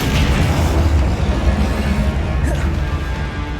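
A dense, loud Confringo spell explosion in Hogwarts Legacy, a continuous rumbling crash of combat noise with no clear separate bursts, filling the whole moment.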